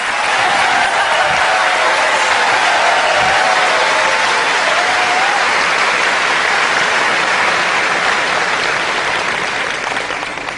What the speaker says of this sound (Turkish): Alkışlarla Hülya Avşar'ı davet ediyoruz.